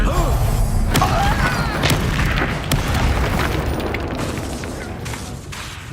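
Bombarda explosion spell from the Hogwarts Legacy video game, a dense booming blast with rumbling thuds and debris that slowly fades over several seconds.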